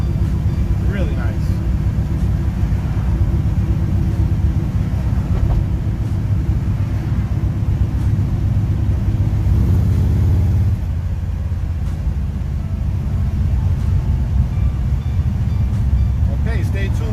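Inside a 1955 Chevy Bel Air with a 502 V8 and four-speed, cruising at about 50 mph, the engine gives a loud, continuous low rumble with a brief drop-off near the end, and someone talks over it.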